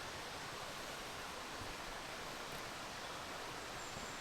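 A shallow, low-flowing stream or small waterfall on the Herriot Way, running at low water level. It gives a steady, soft, even rush of water, faint and unbroken, with no voices.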